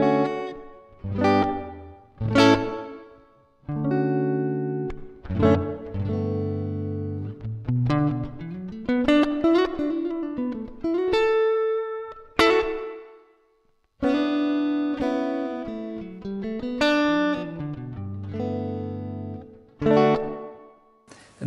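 Electric guitar notes and chords played with pauses between phrases through a Strymon Flint reverb pedal, each ringing out into a smooth, shimmering reverb tail.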